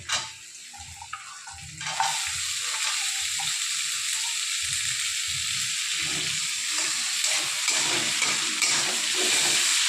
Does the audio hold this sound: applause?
no